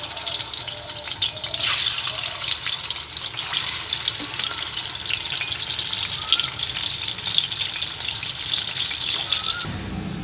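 Eggs seasoned with salt and turmeric fry in a home kitchen pan, a dense continuous sizzle that holds for about ten seconds and then drops away at the end.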